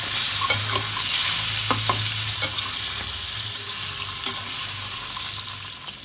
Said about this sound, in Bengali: সর্ষের তেলটা গরম হয়ে গেছে, আমি কিছুটা হলুদ দিয়ে দিচ্ছি যাতে ডিমটা জড়িয়ে না যায়।